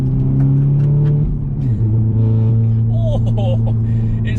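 Toyota GT86 with a manual gearbox, engine droning under load and then dropping pitch through a gear change, with a raspy exhaust tone heard from inside the cabin, steady and loud, with brief talk near the end.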